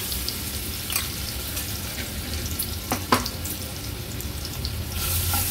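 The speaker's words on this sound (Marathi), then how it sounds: "तेल पण छान गरम झालं आहे। हे वाटलेलं वाटण आपण फोडणीला घालूया।" Ground spice paste fries in hot oil with a steady crackle and sizzle in the background, with a few utensil knocks and scrapes, close and fairly loud.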